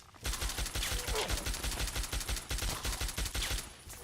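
Rapid automatic gunfire from the Fallout 3 video game, a dense stream of loud close shots firing steadily for several seconds with barely a pause.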